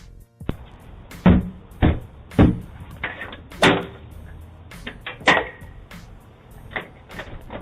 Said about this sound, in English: beating on my door like this